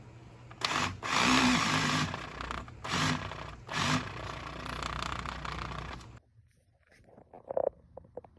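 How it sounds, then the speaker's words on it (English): A Milwaukee 18-volt half-inch cordless drill whirs and labors in several bursts of a few seconds each, straining to prime a Buick Grand National engine oil pump, then stops into near quiet with a faint clank. "my Milwaukee 18-volt half-inch drill here doesn't seem to be up to the task of priming this pump"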